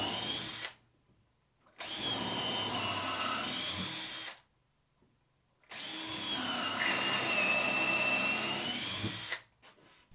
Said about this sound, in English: I like to pre-drill for my fastenings first